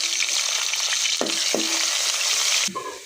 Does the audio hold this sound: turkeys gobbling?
no